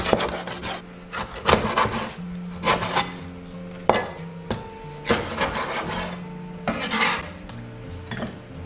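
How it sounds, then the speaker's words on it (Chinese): A knife chops mixed small fish into large chunks for a Fujian soy-sauce braise, giving irregular, close knocks and clatters of the blade striking a cutting board. "接着我们把鱼切成稍微大一点的块"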